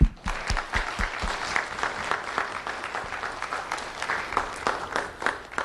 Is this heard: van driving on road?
no